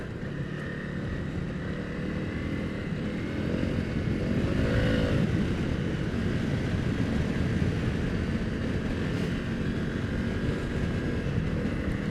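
A dirt bike runs on an off-road trail in Tosohatchee Wildlife Management Area, its engine droning steadily and swelling a little louder midway. The rider stays at a moderate distance and no voices are heard.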